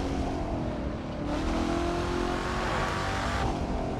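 A car engine revs loudly and continuously in the racing game The Crew 2, played with a Fanatec CSL Elite wheel, a steady roaring drone with a brief shift in pitch partway through.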